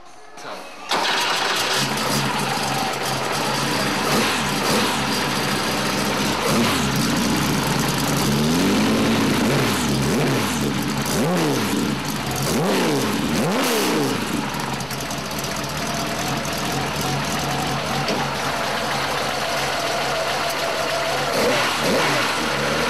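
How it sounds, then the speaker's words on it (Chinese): A 2004 RWB Porsche built by Akira Nakai, with a lightweight flywheel, cranks and fires up, then settles into a loud, rough idle broken by a couple of sharp throttle blips, with a voice faintly in the background. "刚才发起来，然后拉了两下油门"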